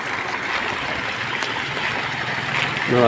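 Floodwater pours through a stream where it overtops a small bridge in Kondotty, a steady rushing, gurgling flow heard up close with no voices.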